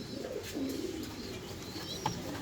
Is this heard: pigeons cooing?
yes